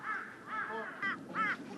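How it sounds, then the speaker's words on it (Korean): Crows cawing in falling snow, gathered together in one spot: several harsh, hoarse caws in quick succession, moderately close, with slight overlap between birds. "한 곳에 모여든 까마귀와 그런 까마귀를 내쫓으려는 들개"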